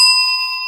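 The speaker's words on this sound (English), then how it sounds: "I'm giving you a bell if you said over" A single bright bell ding marks a correct quiz answer, struck once and ringing clear and loud before slowly fading, alone without talk.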